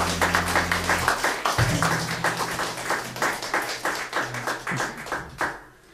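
An audience at a jazz concert claps steadily after a rendition of a standard, a dense, close round of handclaps with a low tone lingering beneath, fading out at the end.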